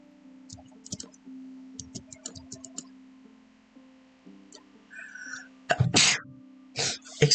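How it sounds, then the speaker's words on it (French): One sharp human sneeze bursts out close to the mic after soft clicks from Minecraft gameplay, followed by a few shorter breathy bursts and no talking. "Excusez-moi, j'ai juste éternué."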